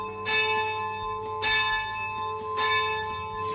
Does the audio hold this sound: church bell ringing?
yes